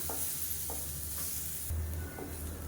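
Crushed garlic fries in a pan with a steady broadband sizzle, punctuated by several soft scrapes of stirring; no one speaks.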